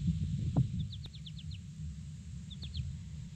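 Birds at a Nebraska wetland give two quick bursts of short high chirps, a longer run early and a shorter one near the end, faint and somewhat distant over a steady low rumble of wind.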